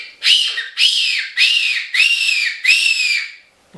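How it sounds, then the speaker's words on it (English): Five sharp, loud fox hunting whistle blasts, each a short rising-and-falling shrill call close to the mic, spaced about half a second apart. "You hook the whistle back through, pull it back around, and you can't lose the thing"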